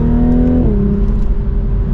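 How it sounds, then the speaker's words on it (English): A 2023 Toyota GR Supra Premium with the 3.0 engine accelerates mildly, its steady engine drone dipping briefly in pitch as it shifts, with a constant road and exhaust rumble throughout. "Mild acceleration, and we're up to the speed limit."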